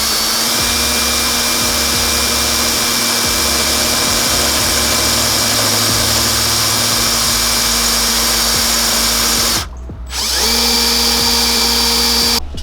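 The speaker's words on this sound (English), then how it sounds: "I'm just gonna start out with a small drill bit and then work my way up" A power drill bores holes for a Jeep Rubicon rear bumper, starting with a small bit: a loud, steady whirring drone runs nearly continuously, cutting out briefly once before resuming, with no talking.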